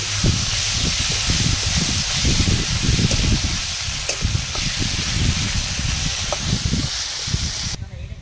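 Onion paste hits hot oil and sizzles with a loud, steady hiss, overlaid by crackling, while a person talks over the cooking.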